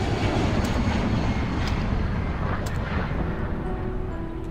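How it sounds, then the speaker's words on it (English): A low-flying airplane in the Underhell video game roars past as a steady loud engine rumble with broad noisy wash, slowly easing in level and carrying no speech. "It's a goddamn airplane!"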